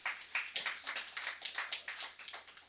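Audience clapping at a Michigan Public Service Commission meeting: a short burst of brisk, fairly even hand claps from a modest group in a room, heard alone without talk.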